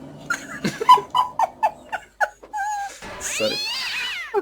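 A cat lets out a run of short, urgent meows in quick succession, close by, followed by a longer wavering cry as a person speaks over it.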